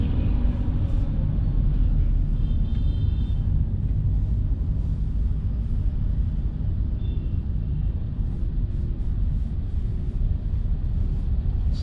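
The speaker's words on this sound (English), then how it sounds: "we still have to get rid of this traffic jam, which has just started to move." Steady low rumble of slow-moving highway traffic in a jam, heard from inside a Kona Electric car in India, continuous and even with no distinct horns or voices.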